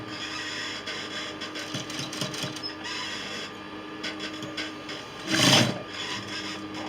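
A sewing machine runs steadily while stitching a placket, a faint, even mechanical whir with a short louder surge near the end and no talk.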